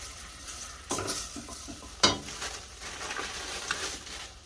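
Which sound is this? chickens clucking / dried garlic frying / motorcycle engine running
dried garlic frying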